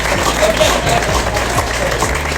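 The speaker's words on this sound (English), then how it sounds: "Just let me a clap for Mr. Adams." A gathering of people claps for a man being introduced, a steady, even wash of applause that fills the whole moment without pause.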